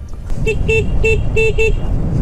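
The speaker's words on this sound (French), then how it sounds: "Alors le klaxon, il est étonnamment puissant." Horn of a Piaggio One electric scooter, five short loud honks in quick succession, close by.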